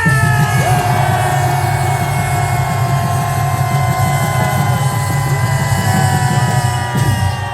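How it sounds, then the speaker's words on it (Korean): A large outdoor crowd at a patriotic political rally in Busan shouts a sustained cheer, a dense loud roar of many voices held steady for several seconds before trailing off. "불러주신 그 애국의 함성이 서울까지 들릴 수 있도록 함성 3초간 발사!"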